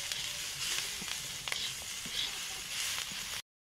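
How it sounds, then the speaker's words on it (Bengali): Onions with turmeric powder and salt being stirred in a hot pan for a fish chorchori, a close, steady sizzle with light scraping strokes, ending abruptly in silence. "পেঁয়াজের ভিতর এখন পরিমাণ মতো হলুদ গুঁড়ো দিয়ে দিলাম, আর এখন লবণ দিয়ে ভালোভাবে নাড়িয়ে চাড়িয়ে নেব।"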